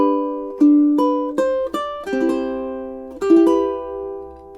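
Soft fingerstyle ukulele plays the opening measures of a relaxed melody section, a handful of plucked notes and arpeggiated chords rolling into long ringing sustains, intimate and solo with no voices.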